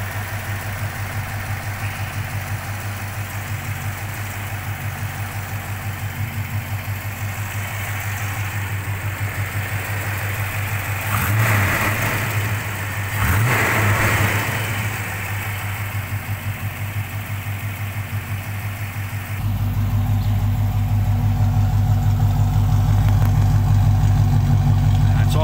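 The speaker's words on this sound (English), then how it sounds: "It's idling at about 700 at the moment, got to bring it down to 550." A Rover P6B 3500S V8 engine idles with a steady low rumble at about 700 rpm, briefly revving twice in the middle, then settles into a louder, heavier idle toward the end.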